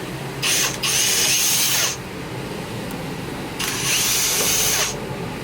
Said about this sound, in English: This is where your drill and your 7/32 inch drill bit comes into play.